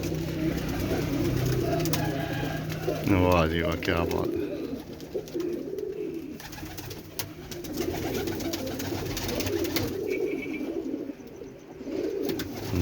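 Pigeons coo softly and repeatedly close by, their low throaty calls continuing while someone talks over them.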